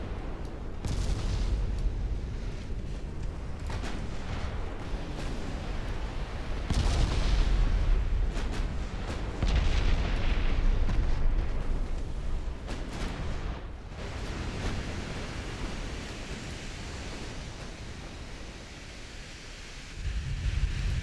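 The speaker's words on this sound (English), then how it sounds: "Blowing up the torpedo." Torpedo explosions in a naval battleship video game roll out as heavy, booming rumbles over a constant wash of sea and wind noise, with several louder surges through the stretch and no voices.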